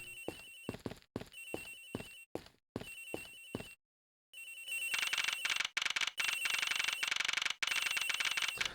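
A phone rings in the Ace Attorney Investigations video game aboard an airliner, sounding as repeated bright electronic trills in rhythmic bursts, broken by a short silence, then resuming louder and denser.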